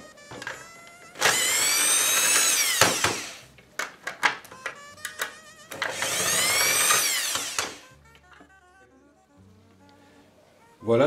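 A power drill fitted with a socket spins off the small nuts on a pop pop engine in two loud whirring bursts of about two seconds each, separated by clicks and handling noises close up; someone talks quietly between them.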